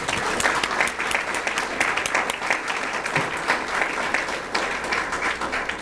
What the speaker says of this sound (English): You all need to give yourselves a round of applause